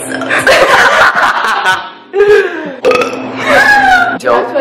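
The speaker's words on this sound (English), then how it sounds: "I burped a sentence for your YouTube channel" A man burps out a whole spoken sentence in long, loud eructations, and a short chuckle and laughter break in between the bursts.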